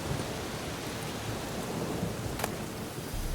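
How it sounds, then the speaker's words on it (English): Steady rain falls with a low thunder rumble during a storm in a video game, a dense, even hiss with no voices. "This storm has been going on for ages."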